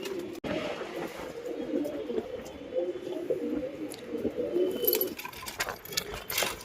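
Pigeons coo on a rooftop near nesting boxes holding young racer pigeons, with low, rolling coos repeating steadily up close and a few sharper bird sounds toward the end.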